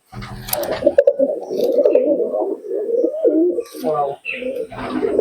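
A Teddy pigeon coos close up in low, throaty rolling calls, repeated over several seconds, with brief voices and rustling around it, at a pigeon sale in Murshidabad.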